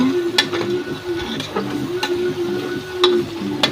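Chicken biryani masala sautéing in a pot, a soft continuous sizzle broken by several sharp clinks and scrapes of a spoon stirring against the metal, no talking.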